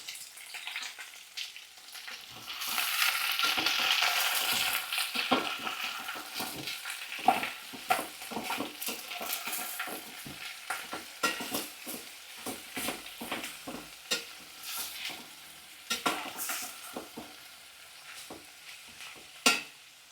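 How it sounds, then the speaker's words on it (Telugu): Pineapple pieces frying and being stirred in a pan for pineapple chicken: a loud, continuous sizzle with repeated scraping and clinking stirring strokes at an irregular rhythm, close by and without talk. "పైనాపిల్ పీసెస్ అనమాట అన్నీ కూడా ఒక్కొక్క కప్ తీసుకున్నాను ఈక్వల్ క్వాంటిటీస్ ఇవన్నీ కూడా మంచిగా ఫ్రై చేసుకోవాలి"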